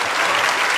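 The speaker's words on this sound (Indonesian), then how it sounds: "Good, tepuk tangan." A short, loud burst of dense clapping from an audience of high school students at a discussion event, lasting under a second.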